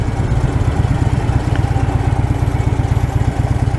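A 2015 Harley-Davidson Low Rider motorcycle engine runs with a steady, loping low rumble, close and loud, its even pulsing beat continuing without a break.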